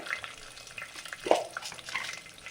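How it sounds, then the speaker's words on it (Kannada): Mustard seeds and peanuts frying in oil for a Godhi Nuchina upma, soft close sizzling with scattered small pops and one sharper spit midway, quiet and brief. "ಹಂಗೆ ಸ್ವಲ್ಪ ಕಡಲೆಬೀಜ, ಶೇಂಗಾ, ಅದು ಸಾಸಿವೆನೂ ಸಿಡಿತದೆ, ಇದು ಫ್ರೈ ಆಗುತ್ತೆ."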